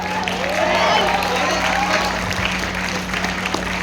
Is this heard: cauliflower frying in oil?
no